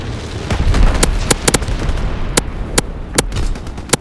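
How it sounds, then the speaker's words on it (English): An incendiary bombing run in Call of Duty WWII multiplayer, with a string of sharp, loud explosion cracks at irregular intervals over a dense, rumbling battlefield roar. "Low altitude bomber inbound. Dropping incendiary."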